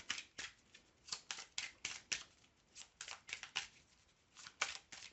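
A deck of cards being shuffled again, quick crisp riffling bursts repeating in close succession with short pauses between them, no talk.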